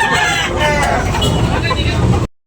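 A young rooster (stag) crows at a chicken sale, the call loud and near over a crowded, noisy background of murmuring voices that cuts off abruptly near the end.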